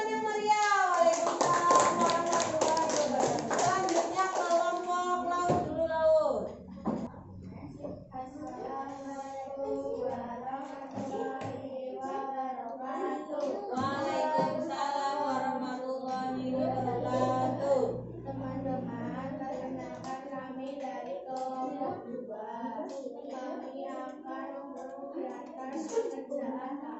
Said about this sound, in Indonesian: Ya, beri tepuk tangan yang meriah.